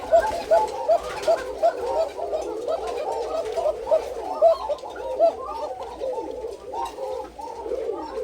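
Many white Koka pigeons coo continuously close by, overlapping rolling calls forming a dense, steady chorus.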